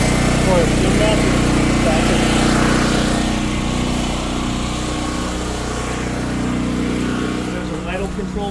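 A Duromax 13000EH generator engine runs at a steady, loud drone with a constant low hum throughout, close by and unchanging.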